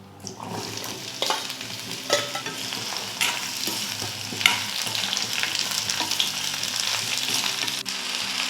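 Steady sizzling of chopped large onions and four dried red chillies frying in oil in a kadai, with occasional stirring scrapes and pops throughout, close and continuous.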